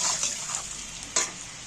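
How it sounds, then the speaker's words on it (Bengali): Potatoes with salt and turmeric fry in oil, a hissing sizzle heard up close, with a brief stirring scrape partway through, short and steady. "এইবার আমি তেলটার মধ্যে নাড়াচাড়া করে ভেজে নেবো ভালো করে আলুটা"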